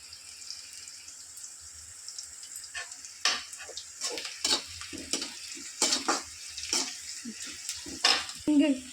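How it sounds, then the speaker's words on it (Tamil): Onions sautéing in a pan for a Tamil sundakkai kuzhambu, a faint steady sizzle under intermittent scraping and stirring clinks of a utensil against the pan. "வெங்காயம் நல்லா வதங்கிடுச்சு."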